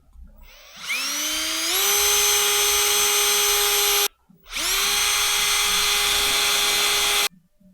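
A power tool drilling through metal strapping to set rivets, two loud sustained whining runs that rise in pitch as they spin up, each cut off abruptly, with no talk.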